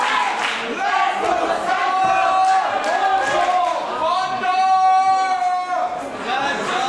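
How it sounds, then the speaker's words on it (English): Wrestling crowd at a light heavyweight world cup show roaring in support of the masked wrestler Senza Volto, a dense sustained wall of cheering and shouting that swells in volume, with voices chanting through the noise. "You can hear the uplift in volume of support for Senza Volto."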